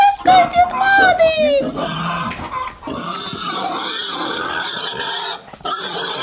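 A pig squeals and oinks loudly up close in a high, wavering cry, followed by grunting mixed with people talking over it.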